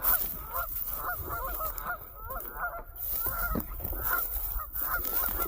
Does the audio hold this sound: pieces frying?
no